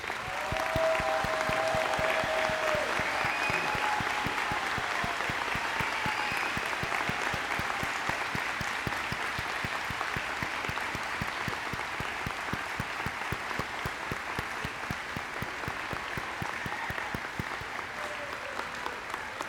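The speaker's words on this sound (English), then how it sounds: "A round of applause, please, for all of the graduates." Sustained applause from a commencement crowd honoring elementary and early childhood education graduates, dense steady clapping filling the hall for about twenty seconds with no talk over it.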